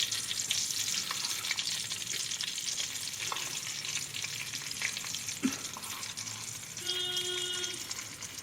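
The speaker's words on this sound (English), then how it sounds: "now let's add some gram flour to it" Gram flour is stirred into hot oil in a pan for Indian Sindhi kadhi, giving a steady close sizzle and frying crackle with light scraping stir sounds throughout, plus a brief tonal clink near the end.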